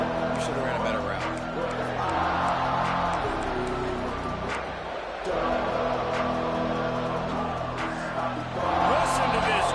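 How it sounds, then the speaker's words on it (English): A stadium crowd in a football video game roars steadily in the background while a commentator talks over it the whole time. "Listen to this crowd just shaking the girders of this place, trying to help their defense."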